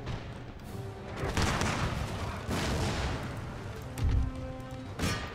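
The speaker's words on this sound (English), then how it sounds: "we can start to fire some of our shots against the artillery, kill the gunners" Artillery and musket fire from the Empire Total War game rings out in a Caribbean campaign battle: a series of deep booming cannon shots and crackling volleys, repeated every second or so, at moderate loudness with no talk.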